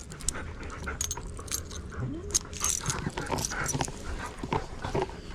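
Huskies pant rapidly and heavily up close in the heat, with soft whimpers, jingling and shuffling around them.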